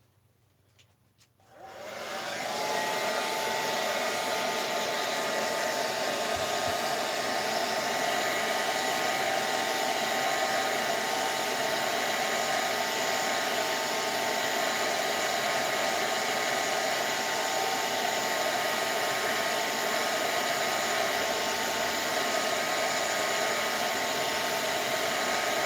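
A hair dryer blows steadily over blackened mixed media paint, switching on after a brief quiet moment and then running as a loud, constant whooshing whir with no voices.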